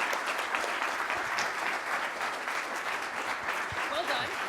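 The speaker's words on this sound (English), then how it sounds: "Give yourself a round of applause." Sustained applause from an audience at a rowing convention session, steady clapping throughout, with a voice briefly audible underneath.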